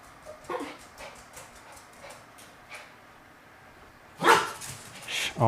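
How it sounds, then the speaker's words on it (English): A household dog barks and yelps in a kitchen during cooking, a burst of loud, close barks near the end after softer scattered sounds and faint background noise. "my dog is popping off about these foods"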